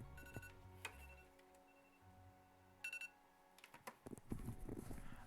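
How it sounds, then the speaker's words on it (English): An alarm sounds in short repeated electronic beeping bursts, a clear tonal pattern that stops partway, followed by scattered quieter clatter. "That was my alarm telling me I had to stream today."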